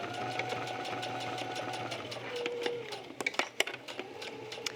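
A sewing machine stitches across cork wallet card slot panels with a steady close mechanical hum, then slows into a few distinct clunks and knocks near the end.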